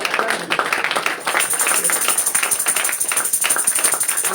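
Church congregation clapping and acclaiming in praise of the pastor, sustained rhythmic clapping with some cheering voices underneath, steady and loud across the whole span.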